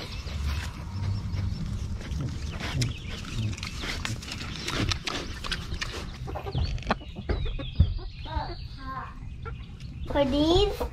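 Broody hens in a backyard coop cluck and squawk close by, over a busy, rustling background with people talking, ending in a louder run of clucks.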